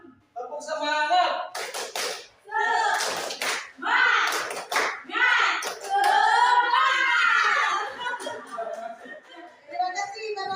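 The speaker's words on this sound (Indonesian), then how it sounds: "Tepuk semangat." A group of women does the rhythmic Indonesian spirit clap, with bursts of hand claps mixed with loud chanted and shouted voices throughout, lively and close.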